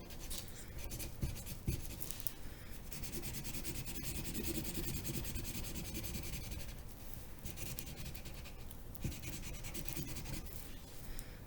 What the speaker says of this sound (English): You guys can just draw a line.